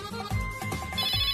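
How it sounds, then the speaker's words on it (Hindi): A mobile phone ringtone for an incoming call, a short bright electronic melody of repeating tones, clear and fairly close, with no voices. "बेगम का फोन आ गया मियां"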